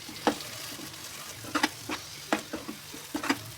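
Soy sauce and red chili sauce fry in a pan for egg rice, a low sizzle broken by repeated scraping stirs and small spattering pops.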